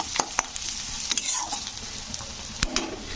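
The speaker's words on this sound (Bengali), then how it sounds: "তো কারি পাতাগুলো একটু দিয়ে নাড়াচাড়া করে দেবো" Curry leaves frying in a pan, a soft sizzle with a few sharp crackles and spatula scrapes as they are stirred, heard close and fairly quiet.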